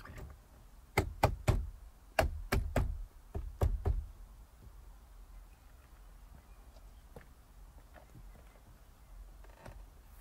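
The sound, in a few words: pressing Chevrolet Corvette C5 door trim panel into place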